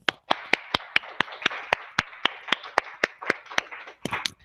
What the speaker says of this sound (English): Let's give you an applause here.